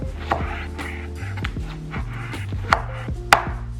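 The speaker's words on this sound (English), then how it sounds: "I'm just gonna chop up a piece of tomato" A knife chopping a piece of tomato on a cutting board, a string of quick, close taps in an uneven rhythm with a couple of sharper knocks, over background music and no talk.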